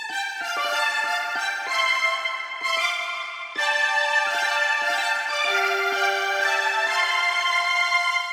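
Three layered M1 synth plugin parts, organ-like pads and strings, playing sustained chords together, full and steady with a brief dip midway, no talking.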